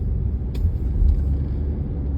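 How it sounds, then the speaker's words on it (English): Steady low rumble of a Honda CR-V engine and road noise while driving, heard from inside the cabin as a continuous loud drone with no talking. "If you guys can hear the engine road noise"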